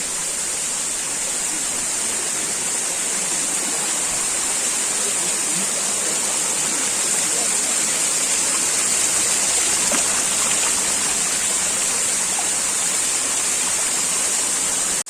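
The Cheenjippara waterfall roars steadily and loudly throughout, a constant rushing hiss of falling water with no pauses.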